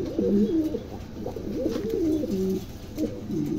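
A pair of pigeons coo close by in repeated soft, throaty rolling phrases, with a steady low background hum.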